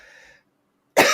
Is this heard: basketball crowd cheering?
no